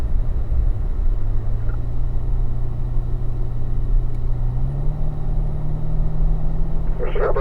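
A car runs down a race track straightaway with a steady, loud low engine drone whose pitch holds and then climbs slightly, heard from inside the car with no other sounds over it.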